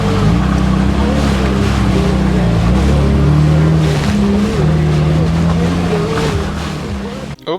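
Jeep Gladiator on Toyo mud-terrain tires and Clayton off-road suspension driving through a mud hole on a snowy mountain trail, with loud, close engine revving and churning, rising and falling, under a person speaking.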